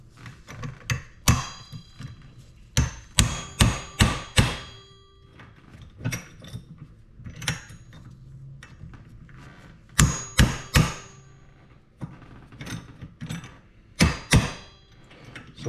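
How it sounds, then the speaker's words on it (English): Sharp metal-on-metal hammer blows strike a bearing stuck on a pool pump motor shaft, landing in irregular bursts of two to four hits separated by short quiet gaps, loud and close with no talk. "So we're just going to take the hammer and hopefully it come off."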